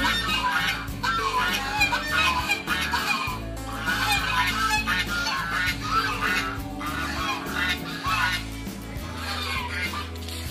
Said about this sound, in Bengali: কত রাজহাঁস, মুরগি।